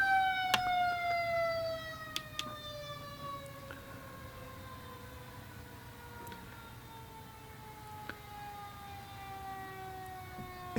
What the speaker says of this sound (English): we're having some parades today, so I hope we can enjoy that fun sound of the sirens